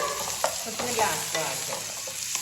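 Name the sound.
curry leaves sizzling in pan for egg curry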